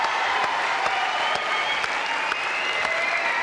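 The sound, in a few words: studio audience applause for the Bhutanese guests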